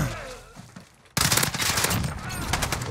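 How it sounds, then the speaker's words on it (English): Rapid automatic gunfire in the shooter game Modern Warfare, a long sustained burst that starts abruptly after a quieter moment and continues loud and close to the end. "It's not the easiest shooting some of these guns."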